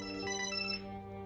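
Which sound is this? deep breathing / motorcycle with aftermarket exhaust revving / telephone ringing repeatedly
telephone ringing repeatedly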